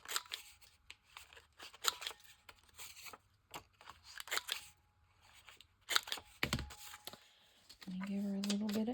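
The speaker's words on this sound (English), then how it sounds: "Trim her corners." Scissors trimming the corners of paper for a Japanese-themed journal, heard as a series of short, close snips and crisp paper rustles with quiet gaps, followed near the end by a steady hum.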